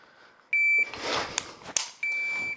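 A shooting shot timer gives its start beep, a steady electronic tone heard twice with a clear pause between, close and loud, with faint handling and movement noise in the gap.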